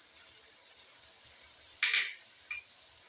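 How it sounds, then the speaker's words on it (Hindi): Water is poured into a pan of fish cooking with red chilli, dried coriander, turmeric and salt, setting off a brief loud hiss and crackle over a steady background sizzle, with a smaller second burst a moment later. "अब हम थोड़ा सा इसमें डालेंगे पानी, अच्छी तरीके से ये गल जाए।"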